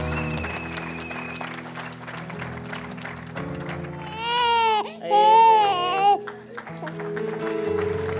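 Congregation at an evangelistic church service applauding and cheering, with loud, high wailing cries rising over ongoing music and clapping for a couple of seconds before settling back.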